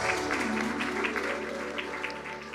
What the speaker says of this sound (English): put your hands to give all these wonderful young children a lovely round of applause